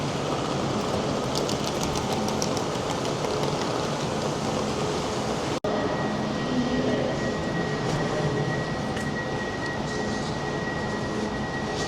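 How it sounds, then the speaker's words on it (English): A Class 805 Evero train sits at a station platform, its engine giving a steady broad rumble with a faint high whine that runs continuously. "Well, there's the train there. It's a Class 805 Evero train."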